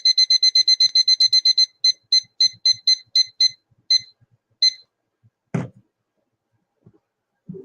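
A small kitchen-style timer alarm beeps in rapid bursts that slow and spread out before stopping, followed by a faint knock and a few soft sounds. The beeping is loud and close with no talking.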